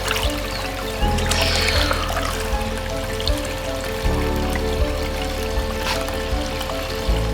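Water flows and splashes through a micro sluice set up for gold panning, a continuous trickling rush with occasional louder gushes and knocks close by.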